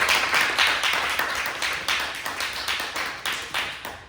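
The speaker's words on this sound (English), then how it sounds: "So I'm gonna give a round of applause to that and to everyone" Applause after a performance of the play Murdering Medea, a small group clapping in quick, uneven bursts that rise and dip for several seconds.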